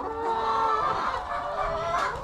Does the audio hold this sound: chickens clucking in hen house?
yes